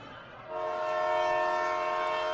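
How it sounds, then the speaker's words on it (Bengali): A train pulls into a station at 7:40 on a cold evening, its horn sounding a sustained tonal blast that swells in after a moment over a low rumble of rail noise. "অবিনাশের ট্রেন যখন আসে ঘড়ির কাঁটায় তখন 7:40।"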